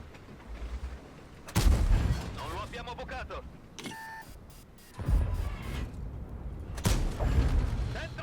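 Tank cannon shots in a tank video game, heavy booming blasts at about 1.5, 5 and 7 seconds with a short electronic beep between them, a voice talking over the game audio.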